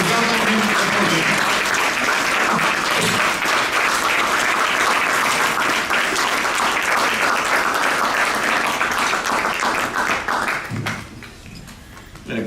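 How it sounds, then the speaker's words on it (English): Dense, sustained round of applause from a large audience welcoming a speaker to the podium at a Crowne Plaza event, loud and steady for most of the stretch before tapering off near the end. "Please give him a stand up, round of applause, and welcome him to the podium."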